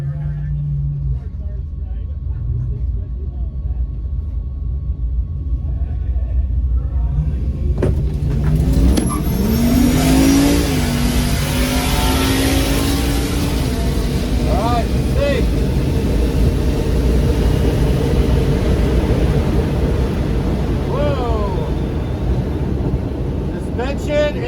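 A Tesla Model S Plaid making a drag strip run: a steady electric motor whine and road rumble that rises in pitch as the car accelerates, with a rushing wind roar building through the pass and people talking over it.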